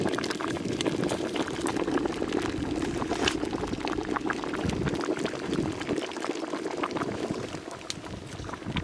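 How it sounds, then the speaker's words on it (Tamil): Madurai-style mango pachadi simmers in a pot, raw mango cooking down with a continuous, close bubbling and popping throughout. "இப்போ மாங்காய் நல்லா குழஞ்சி வந்துருச்சு, நல்லா கொதிச்சு வந்துருச்சு"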